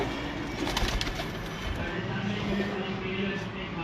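Red-eyed pet pigeons cooing softly in a breeder's loft, low repeated coos heard under a voice talking close by, with faint background noise throughout.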